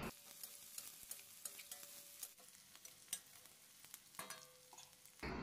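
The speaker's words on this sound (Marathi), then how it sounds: "कांदा आता आपल्याला गोल्डन कलरचा होईस्तोवर छान परतवून घ्यायचा आहे." Onion frying with garlic and chilli in a pan for chana chaat, a steady soft sizzle broken by repeated scrapes and clinks of a spoon stirring, close and fairly quiet with no talk.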